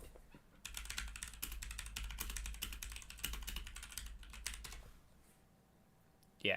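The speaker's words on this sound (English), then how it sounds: "I like this keyboard a decent amount, and it sounds pretty good" Fast, steady clicking of keys on a mechanical computer keyboard with factory lube, close and fairly quiet, pausing near the end before a brief louder bump.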